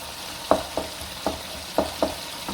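Lamb sautés in a karahi with a low steady sizzle, punctuated by about six rhythmic scrapes and clinks of a stirring spoon against the pan.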